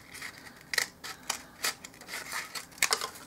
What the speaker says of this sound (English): And these are not great scissors, and I've kind of abused these scissors.